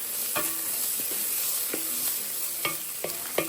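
Meat frying in a pot with garlic, onions and seasonings for a one-pot pasta meal, a steady close sizzle broken by several sharp scrapes and clinks of a spoon stirring against the pan, with no talking.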